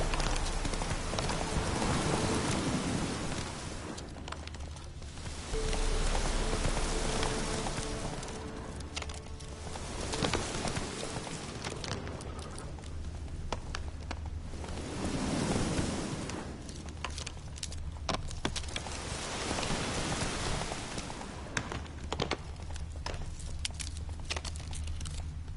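Horse's hooves clip-clopping in The Witcher 3 video game, a continuous rhythmic trot over ground mixed with a soft rain-like patter and game ambience, steady at moderate loudness with no talk.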